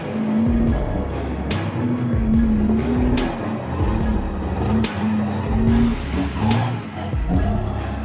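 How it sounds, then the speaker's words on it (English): A heavy Hino truck towing a huge trailer roars as it strains on a muddy slope. Its loud, sustained engine note rises and falls repeatedly as the wheels spin, with no speech. "The engine roars loudly, helplessly, as if it is screaming for escape."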